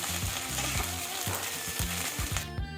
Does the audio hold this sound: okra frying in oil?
yes